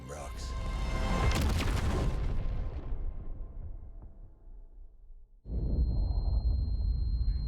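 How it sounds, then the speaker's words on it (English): A flashbang detonates in Marvel's Midnight Suns with a loud booming burst that swells and slowly fades, then a renewed rumbling roar cuts in sharply near the end, voices mixed in. "Flashbang."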